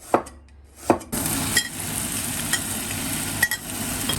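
Meat and garlic are stir-fried in rendered oil: a couple of sharp taps give way to a loud, steady sizzle, with stirring scrapes and clinks of a utensil against the wok.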